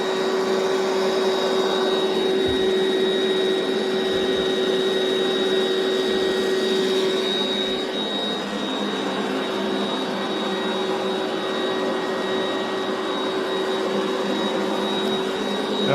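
An electric pump runs steadily as it inflates a two-person air mattress, giving a loud continuous whirring drone with a constant tonal hum that shifts slightly partway through. No one talks.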